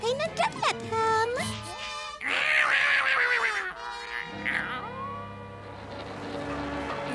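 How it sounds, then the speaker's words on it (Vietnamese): Cartoon cat meows in a Smurfs animated episode, several high wavering calls mixed with music and other voices, fairly loud and close, with characters talking around it. "Tới đây đi mèo con dễ thương ơi, đúng là một con mèo ngoan mà."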